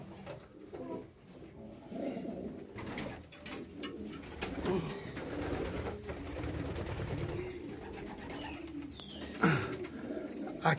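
Pigeons coo in a loft, several soft rolling calls overlapping at close range, with faint rustling and shuffling between them.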